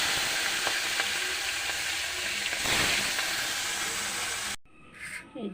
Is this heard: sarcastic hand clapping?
no